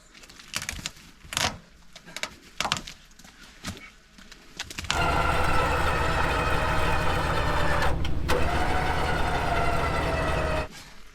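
A tow truck wrecker's engine roars loudly and steadily while pulling a stuck rig, after several seconds of knocks and clunks, with a brief dip before it cuts off.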